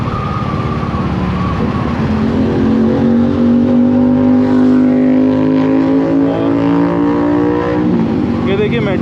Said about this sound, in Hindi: और देखिए बाइक्स वगैरह आनी चालू हो गई हैं।